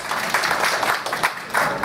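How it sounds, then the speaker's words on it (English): An audience at a panel event on green jobs and community revitalization claps for a panelist, giving a loud, steady wash of applause from many hands. "Would you guys give him a round of applause?"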